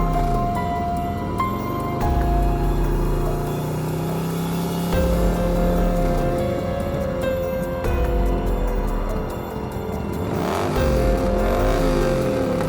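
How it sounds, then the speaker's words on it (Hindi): A scooter races along fast, its small engine revving and droning with rising and falling pitch sweeps, close and continuous with no speech. "स्कूटर पर बैठकर काफी तेजी के साथ जंगल की तरफ जा रहे होते हैं"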